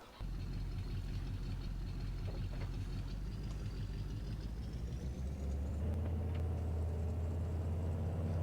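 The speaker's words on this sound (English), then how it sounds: "this old truck sure is pulling its weight" Old truck engine in Farming Simulator 22 running steadily, a continuous low rumbling drone with an idling, knocking texture that deepens slightly near the end, close and constant with no talk.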